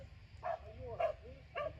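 Dog barking outdoors on a street in Zaporizhzhia while a man walks it, three short barks spaced about half a second apart, moderately close over low background rumble.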